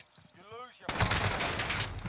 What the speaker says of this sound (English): Oh, the AN-94? I never lose with this gun.